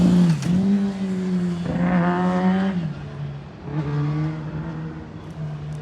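Car accelerating hard along a road, engine note climbing through two quick gear changes, a loud revving pull that fades and surges again as it passes nearby.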